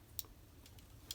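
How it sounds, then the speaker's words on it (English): A metal piece inside a stationery stapler clicks into place, giving two faint, sharp ticks about a second apart against a quiet background. "I don't know if you heard that click, you have to push this metal piece downwards"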